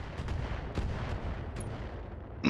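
LRM missile volleys firing in the BattleTech video game, a run of heavy booming launches and rumbling blasts that fill the clip, with a sharper burst at the very end.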